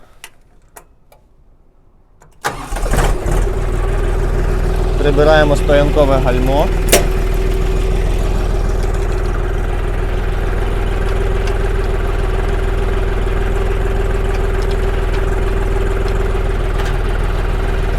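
A Kentavr 244SD mini tractor engine cranks and catches at about two and a half seconds, then settles into a loud, steady diesel idle that runs to the end, with someone speaking briefly over it.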